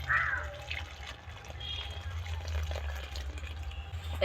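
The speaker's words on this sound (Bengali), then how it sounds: "এবারে আটাটাকে জল দিয়ে ভালো করে মাখাবো" Water being worked into wheat flour (atta) for papad dough, a soft continuous wet swishing and trickling close by, with faint clinks over a low background rumble.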